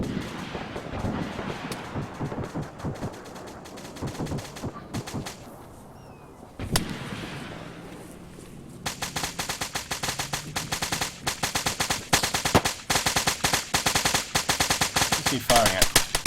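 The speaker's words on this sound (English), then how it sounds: "More explosions happening down in the town here." Arma 3 battle in a town with tanks, distant explosions and scattered gunfire early on, then a long stretch of rapid, loud machine-gun bursts near the end, with brief talking mixed in.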